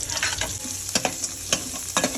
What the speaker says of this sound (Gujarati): હિંગ નાખશું 1/2 ચમચી નાખશું.